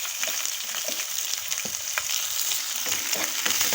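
Chopped onion and cumin seeds frying in hot oil in a pan, with a steady bright sizzle and scattered crackles and pops throughout, close and alone without talk.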